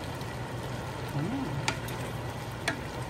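A pot of beef pochero made with chuck roast sizzles and bubbles steadily up close once the lid comes off, with a couple of faint clinks over the constant frying hiss.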